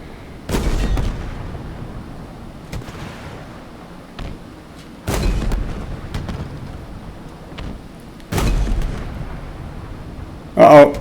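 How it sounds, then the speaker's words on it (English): A Scorpion tank cannon in Halo Infinite fires three heavy blasts a few seconds apart, each with a rumbling tail. A voice talks between the shots. "So I'm just going to lay in with my scorpion gun here."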